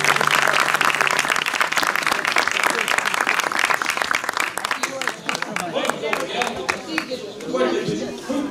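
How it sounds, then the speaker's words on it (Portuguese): Festival crowd at the Bodo do Império do Posto Santo claps loudly for the Império, dense and close at first, then thinning into scattered claps with chatter and voices over the final seconds. "Ajudem todos a dar palmas ao Império do Posto Santo."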